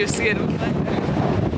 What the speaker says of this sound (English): Oh my god, it's so, so windy.